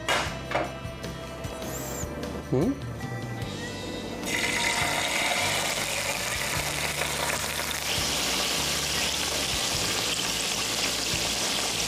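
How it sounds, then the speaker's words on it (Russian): Fresh pieces of zander, seasoned with a few spices, hit hot oil in a frying pan and sizzle steadily close by, the hiss swelling louder partway through and holding as a dense crackle. "эти свежайшие кусочки судака обжарим на сковороде, приправив специями"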